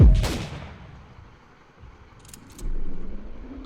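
A single loud shotgun blast in the Roblox version of the game Buckshot Roulette opens the sequence, followed by quieter mechanical clicks and a rising hum.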